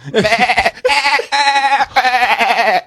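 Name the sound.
person imitating a goat bleat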